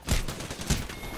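Video game gunfire, two loud bursts of shots about half a second apart in a short, busy game mix.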